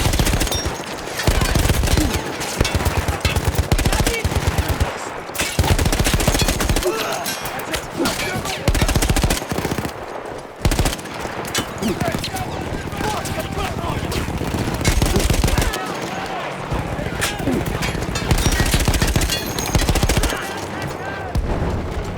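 A mounted machine gun in Battlefield 1, once manned by Austro-Hungarian troops, hammers out long, loud bursts separated by brief pauses, with battlefield noise filling the gaps.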